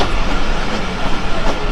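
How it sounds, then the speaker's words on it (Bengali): Mahananda Express passenger train rolling past a level crossing, a loud, close, continuous rumble with rhythmic clickety-clack of wheels on rail joints, heard alone. "এই যে মহানন্দা এক্সপ্রেস ট্রেন আসতেছে দেখুন"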